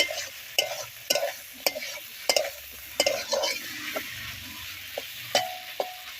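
Small fish frying with tomato are stirred in a pan, with regular sharp scrapes and taps of a spatula about once a second over a low sizzle, close up and without speech.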